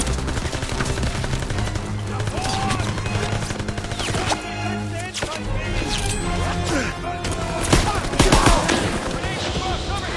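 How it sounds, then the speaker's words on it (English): Machine gun fire in a military shooter video game: dense, loud rapid bursts and crashing impacts run through the whole stretch, with sharper blasts near the end and soldiers' shouted commands mixed in. "MG firing!"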